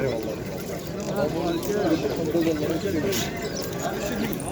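Pigeons at a pigeon market in Izmir coo and flutter amid a busy crowd, their calls mixed into steady background chatter and market bustle, with people talking throughout.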